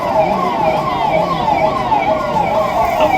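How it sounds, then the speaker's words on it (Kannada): An ambulance siren wails loud and close in a continuous rising-and-falling sweep, with road and engine noise beneath it. "ಆಂಬುಲೆನ್ಸ್ ಆಗಮನವಾಗಿದೆ."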